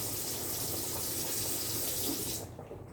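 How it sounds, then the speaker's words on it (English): Water runs steadily from a tap in a continuous broadband rush, then cuts off near the end, leaving a quieter trickle. "turn that water off."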